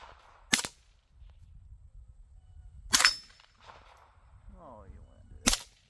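Three sharp rifle shots ring out a few seconds apart outdoors, each a loud crack with a metallic ring from a steel target, with brief quiet talk between them.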